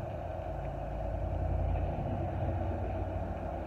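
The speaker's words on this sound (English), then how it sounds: "So many fucking trucks." Trucks rumble past on a road, a steady low engine drone that swells slightly in the middle, moderately distant and continuous with no voices.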